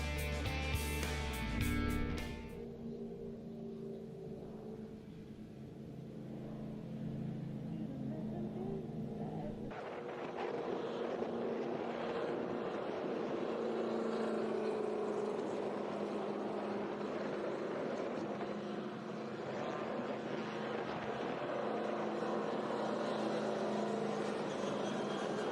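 Historic touring cars race at a WA Sporting Car Club championship round, their engines making a steady broadband roar and rumble that holds for the whole stretch, with a brief tonal burst at the start.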